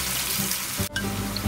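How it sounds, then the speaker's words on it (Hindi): Chopped onions sautéing in hot oil in a big pot, a continuous close sizzle with a brief stir or clatter partway through. "गर्म होने के बाद हम इसमें अनियन डालेंगे और इसे सौते करेंगे फॉर कपल ऑफ मिनट्स"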